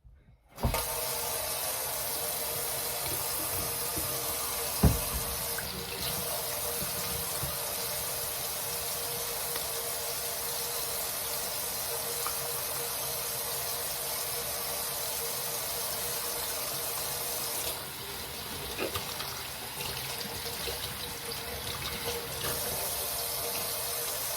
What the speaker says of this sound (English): First thing we're gonna do is wash our hands.